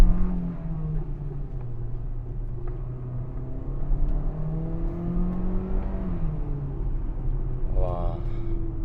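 A GAC Emkoo with a seven-speed dual-clutch transmission accelerates hard in sport mode, its engine drone rising steadily in pitch through gear changes, heard from inside the cabin with someone speaking over it.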